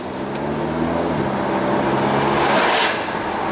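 An Audi TT's rebuilt engine drones steadily from inside as the car drives along the road, with a broad rush of road and wind noise throughout.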